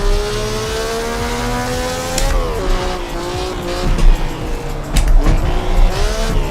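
Vintage GT sports car on a street track around Napoli in a racing game, its engine revving loud and steady with gear shifts, tires squealing and skidding through slides, no talk.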